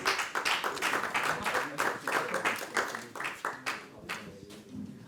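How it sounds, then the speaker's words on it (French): At an AI racing event, competitors and onlookers applaud: a modest crowd's irregular clapping, close and lively, thinning out toward the end. "Sous les applaudissements de tout le monde ici, des compétiteurs, de Philippe Oléron, d'Élise Voyer"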